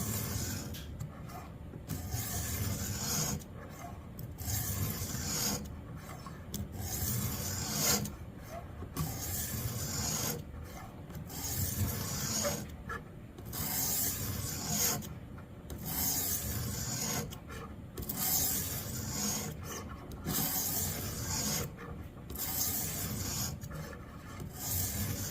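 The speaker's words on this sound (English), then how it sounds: "And polishing the edge of that knife" Repeated back-and-forth strokes of a knife edge being polished on a Xarilk Gen3 sharpener, steady rhythmic rasping passes close up, about a dozen strokes with brief pauses between, no talking.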